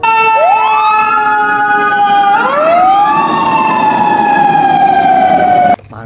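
A loud electronic siren from a toy fire truck wails continuously, pitch sweeping up and down in a toy-like tone, close and alone, cutting off abruptly near the end.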